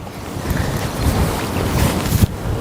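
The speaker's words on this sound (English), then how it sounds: "Oh, that wind's picking up." Wind gusting outdoors at a stillwater fishery, a steady rushing buffet with microphone wind noise, loud and close throughout with no talk.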